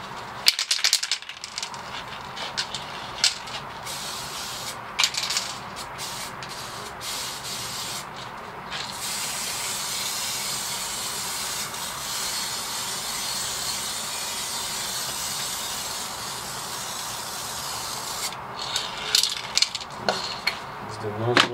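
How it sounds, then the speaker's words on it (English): Gray paint hissing from an aerosol can onto suspension fork lower legs, in steady broadband bursts with short pauses and faint can rattles at the start and end. "I'm starting with the gray"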